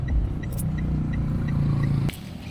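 Steady low engine rumble from a car moving slowly outside a hospital while looking for a parking spot, close and continuous, with a brief thump near the end as the sound drops.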